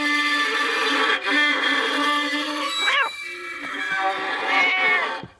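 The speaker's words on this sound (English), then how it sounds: "You said you didn't have a cat." A cartoon cat meows loudly and insistently in a drawn-out series of wavering, high-pitched cries, alone and close, in an animated Mr Bean episode.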